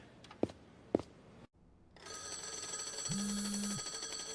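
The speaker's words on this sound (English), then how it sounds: "That evening, his phone rings." A phone rings in the evening: a steady, bright electronic ring that starts after a short silence and holds continuously, with a lower tone joining it briefly.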